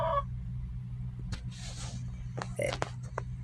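A pet chicken begging for banana makes short, clucking calls and brief squawks close to the microphone over a steady background hum, with a person's voice nearby.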